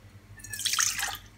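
Half a cup of water poured into a mixer bowl for maple marshmallows, heard as a short, quiet splash and trickle that swells briefly and fades, with no one speaking.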